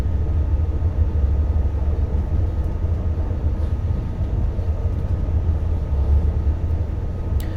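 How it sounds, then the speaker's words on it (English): An intermodal freight train bound for Genk passes in a train simulator, a steady deep rumble of wheels and wagons held at a constant loud level. "It's that intermodal train to Genk we saw earlier."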